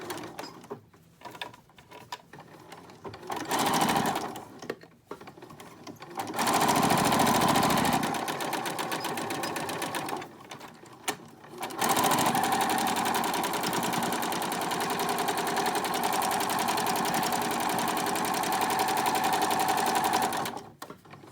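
A sewing machine top-stitches a fabric channel face mask with a wire inside, running in steady mechanical bursts of whirring stitches broken by short pauses, close and loud, with no voices.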